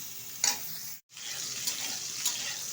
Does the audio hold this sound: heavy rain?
no